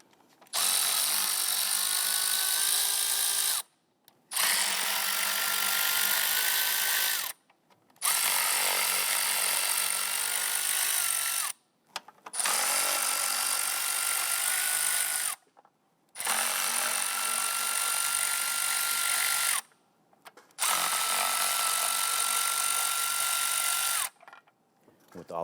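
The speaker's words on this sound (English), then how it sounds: "Using a 5/16 socket, go ahead and loosen the upper intake bolts." A power tool drives a 5/16 socket to loosen the upper intake bolts on a 2011-2021 Jeep Grand Cherokee, running in about six loud, steady bursts of roughly three seconds each, separated by short pauses.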